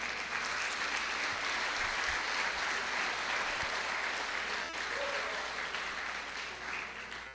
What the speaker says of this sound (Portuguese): Você pode aplaudir o Senhor hoje?